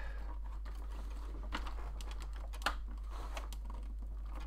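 Small screws being driven by hand into the front wheel arches of a VW T1 Samba campervan scale model, heard as soft, irregular ticks and clicks, close and faint, with one sharper click partway through and no talking.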